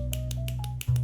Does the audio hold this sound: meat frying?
no